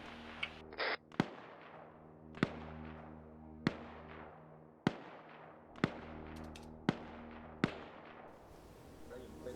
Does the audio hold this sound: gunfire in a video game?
yes